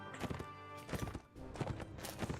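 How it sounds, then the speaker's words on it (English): Horse hooves clip-clop in quick rhythmic bursts in the video game Mount & Blade as a mounted rider struggles up a small incline, loud and close, with a brief pause midway. "Oh no, my horse can't climb up another small incline."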